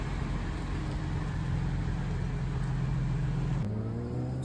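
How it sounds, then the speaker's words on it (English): Steady, dense roar of car traffic on a busy road at 7:30, a constant engine rumble with no breaks and no voices. "there's a lot of traffic, a lot of noise"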